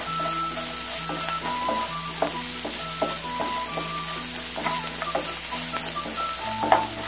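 A prawn theeyal base being sautéed with salt in a pan: a steady sizzle with rhythmic spatula scrapes and taps repeating every second or so, close and unaccompanied by speech.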